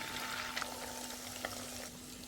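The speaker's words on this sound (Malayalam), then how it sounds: "ഇഞ്ചി വെളുത്തുള്ളിയുടെ പേസ്റ്റ് എണ്ണയിൽ ഇങ്ങനെ മൂപ്പിച്ചെടുക്കുമ്പോൾ" Ginger-garlic paste fries in hot oil for a curry, giving a steady close sizzle with a few small pops and crackles throughout, no voices.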